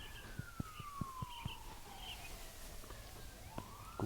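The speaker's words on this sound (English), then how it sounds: "Oh, hear the sirens." An emergency siren wails outdoors at a distance, its long tone sliding steadily down and then rising again under steady background noise, with a few sharp knocks and clicks close by.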